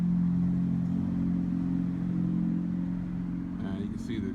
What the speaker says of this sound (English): I'm going to catch some cars going by here.